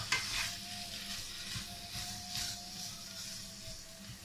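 A pan of lasagne sauce being stirred, with scraping strokes and a soft sizzle running steadily underneath, close and moderately quiet, with no talking.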